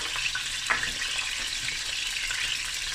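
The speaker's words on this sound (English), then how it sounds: "And a teaspoon and a half of your Nigella seeds, which also called black onion seeds. And we just let this fry." Paprika, black pepper and nigella seeds frying in a pan, a continuous close hiss and crackle with small pops throughout.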